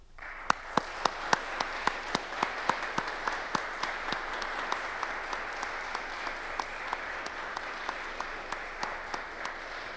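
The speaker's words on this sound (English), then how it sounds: "Please stand and receive our applause." Audience in a concert hall applauding Dr. Nelson, a steady wash of many hands clapping for about ten seconds, with sharp individual claps standing out at a regular beat.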